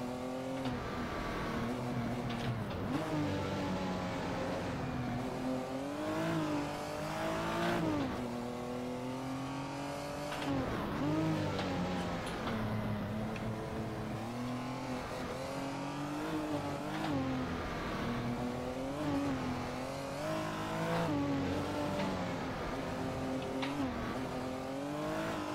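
A Porsche engine revs hard while racing in the video game GTA 5, rising and falling through the gears continuously and loudly, with occasional tire squeal.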